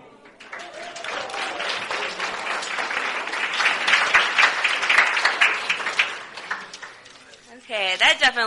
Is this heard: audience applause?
yes